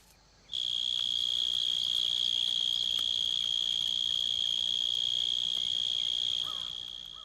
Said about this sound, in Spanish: Los grillos machos se colocan en la entrada de sus madrigueras, a veces con la cabeza metida en ellas,